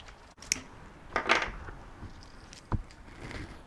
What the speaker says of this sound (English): I think I'm going to cut them off the plug.